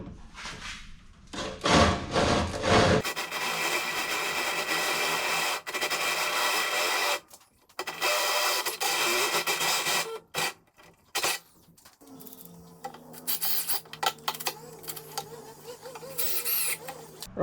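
Power drill boring holes in the metal body of an International C1100 pickup truck to mount a battery isolator; close, loud whirring bursts start and stop several times, separated by pauses and clanks, with a quieter motor hum near the end.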